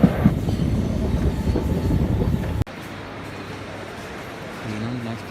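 A Mumbai local train runs on its rails with a loud, heavy rumble and clatter. The sound drops abruptly partway through to a quieter, steadier roll.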